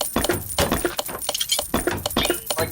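Hammer blows on car body parts in the Car Mechanic Simulator game, heard as a steady run of sharp metallic clanks and clinks at close range with no talk.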